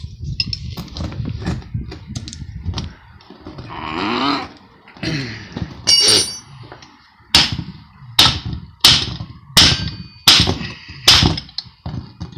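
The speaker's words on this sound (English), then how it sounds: "It doesn't really matter how bad you beat up the surface of the pitman arm." Hammer blows strike a Ford E350 steering box pitman arm, a series of sharp metallic impacts growing regular in the second half, roughly one every half second, close and loud, with a few earlier clanks and handling noises.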